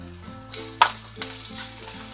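Onions frying on a high flame for stuffed karela, a soft hiss under a low hum, broken by two sharp scraping clacks of a spatula against the pan, close and brief.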